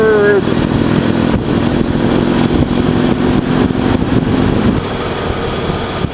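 A Harley-Davidson Electra Glide Ultra Classic, a motorcycle of over 400 kilograms, pulling away under throttle from around 2000 revs, a loud, close, rumbling engine drone heard throughout with some wind noise.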